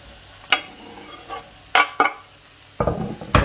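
Diced vegetables tumble into a pan of frying onion for a Provençal ratatouille, giving a few sharp clattering drops and scrapes, then a louder sizzling hiss near the end.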